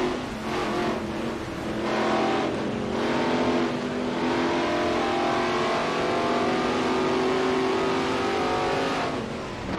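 Race car engines howl at Spa-Francorchamps in Gran Turismo Sport, a steady loud drone of revving motors with rising and falling pitch as cars pass close by, continuous throughout with no talk.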